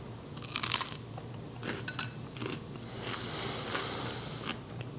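A crisp, loud crunch as a rice cake spread with peanut butter is bitten, followed by several seconds of close, softer chewing.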